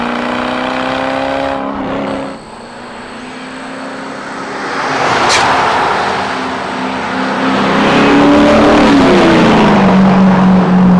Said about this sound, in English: The SLP loudmouth system kind of reminds me of straight pipes.